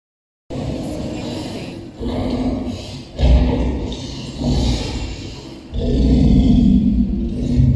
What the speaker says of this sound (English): there's a good video of this sort of illusion they have of the dragon breaking free